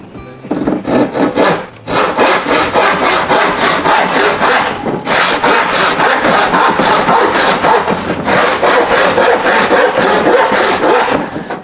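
A hand saw cuts through wood for a homemade door, giving a loud, steady run of rhythmic rasping back-and-forth strokes, with one short pause early on and another near the end.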